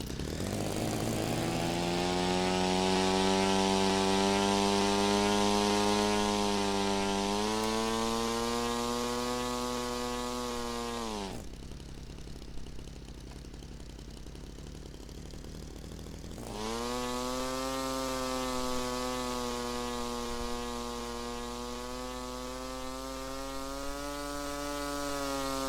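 A small RC stunt plane engine whines loud and buzzy in the Phoenix RC flight simulator, revving higher for takeoff, cutting out briefly, then droning on steadily.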